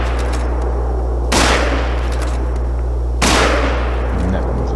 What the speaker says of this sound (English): So we're just going to keep shooting at it as much as we can